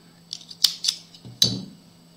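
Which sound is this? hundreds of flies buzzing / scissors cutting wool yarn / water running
scissors cutting wool yarn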